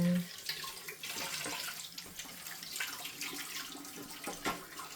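Tap water runs steadily to rinse a removable washing machine detergent drawer, a constant close hiss and splatter lasting the whole stretch with small bumps and drips.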